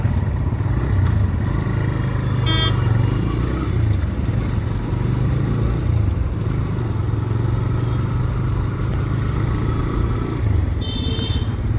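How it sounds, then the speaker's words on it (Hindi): A TVS motorcycle starts up with a twist of the accelerator at a city traffic signal, its engine a steady loud mid-pitched rumble with traffic noise around, no talk over it. "बस एक्सीलेटर देना है हमें और ये बाइक हो गई स्टार्ट"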